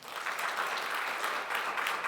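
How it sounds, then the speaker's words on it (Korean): A church congregation at a New Year thanksgiving service applauds its elderly members, a soft, even patter of many hands clapping together at a distance. "우리 교회 때문에 그동안 수고 많으셨다고 박수 한번 하겠습니다."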